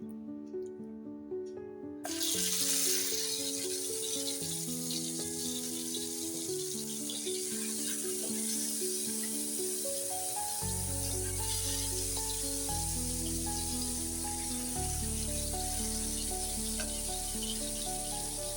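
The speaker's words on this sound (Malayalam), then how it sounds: "ഇനി നമുക്ക് മീൻ കഷ്ണം ഇട്ടത് വറുത്തെടുക്കാം" Pieces of fish frying in smoking hot oil give a steady, soft sizzle from the moment they drop in, continuing under background music with no talking.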